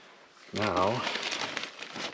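Grape cuttings are pushed into a plastic bag, giving a crinkly rustle of plastic that continues after a brief spoken voice near the start.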